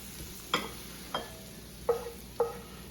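Browned, translucent celery and onions being moved into a dish for stuffed acorn squash, heard as four or five soft scraping clunks of a utensil against cookware, spaced about half a second apart over a faint background hiss.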